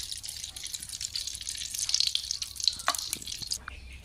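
Water from a kitchen tap runs and splashes while boiled goat liver is rinsed. The splashing hiss is fairly faint and carries small drips, then cuts off sharply near the end.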